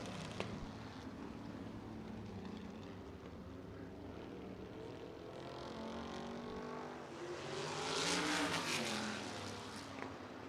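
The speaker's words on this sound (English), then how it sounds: "That's a 1980 sprint car. It's a Stanton chassis. Chevrolet 360 power plant." A 1980 Stanton-chassis sprint car with a Chevrolet 360 engine racing on a dirt oval speedway, a loud sustained engine roar that swells as the car passes close near the end, alone without talk.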